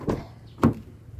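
The door of a Toyota Innova E is pushed shut, giving two close, solid thumps about half a second apart, the second heavier, with a quiet lull between.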